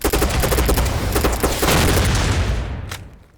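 Bursts of automatic gunfire and booms rattle in the shooter game Poly Squad, loud rapid shots packed together before fading away near the end.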